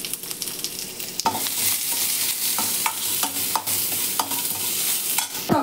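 Chana masala gravy ingredients frying in a pan, with a constant bright sizzle up close and a series of sharp scraping stirs and taps of a spoon against the pan, one louder clack near the start.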